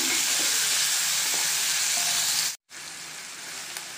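Broccoli and tomato pieces fry in a hot pan, giving a loud, steady broadband sizzle that cuts out for an instant near the middle and then resumes at the same level.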